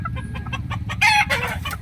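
Native jungle fowl hen clucking in a backyard, a run of short repeated clucks growing louder and busier toward the end, close by with no talk.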